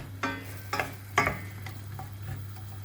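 Celery, carrots and potatoes sauté in a pan for an olive-oil quince and celery dish, with a few close stirring scrapes over a soft, steady sizzle and a low background hum.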